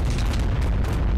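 Bomb explosions in the modded ARK survival video game, a dense run of heavy booming blasts that merge into one continuous loud low rumble with no gaps, no voices heard.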